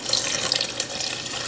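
Burgundy red wine poured into a cooking pot, a short, close, hissing splash of liquid with no voices.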